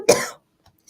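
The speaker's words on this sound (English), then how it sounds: "the cough lingers and comes back occasionally" A single sharp cough from a man recovering from COVID, close and loud, followed by a brief faint sound and then silence.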